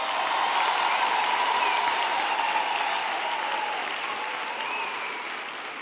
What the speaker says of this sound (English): We have to give them another round of applause.